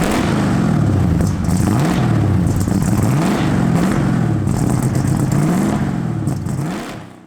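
Collectible classic car with an S-Code engine revs close and loud, pitch climbing and falling in repeated surges with mechanical clatter, then dropping off at the end, no talk.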